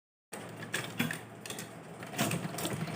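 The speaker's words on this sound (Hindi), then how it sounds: "फिर हमें इस तरीके से पट्टी रखनी है और इस पे सिलाई लगाते हुए पूरा सर्कल कंप्लीट करना है।" A sewing machine stitches around a fabric strip in a steady mechanical whir with rhythmic clicking pulses, starting abruptly after a brief silence and running close and fairly quiet.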